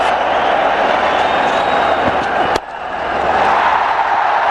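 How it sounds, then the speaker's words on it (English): Large stadium crowd roaring continuously at a 2009 India vs Australia one-day cricket match in Nagpur, a dense, loud wash of cheering that briefly dips after a sharp knock, then swells again. "Plenty of excitement in the crowd."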